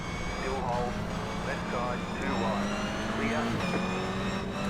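A GR86 Cup race car in a racing video game brakes hard, its engine note dropping in a steady tonal drone with shifting upper harmonics, loud and close, while a voice talks over it throughout.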